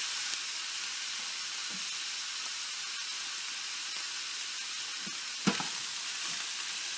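Ground meat, returned to the pan after its grease was strained off for a taco bake, sizzles in a steady, close hiss with a few faint clinks of stirring.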